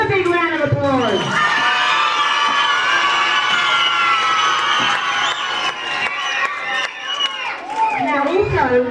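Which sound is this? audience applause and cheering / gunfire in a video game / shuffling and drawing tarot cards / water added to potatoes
audience applause and cheering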